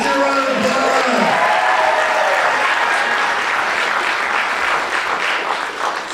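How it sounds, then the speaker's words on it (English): Loud, sustained applause from a pitch competition audience fills several seconds after a voice ends, a thick wash of clapping that slowly thins toward the close. "Let's hear a round of applause."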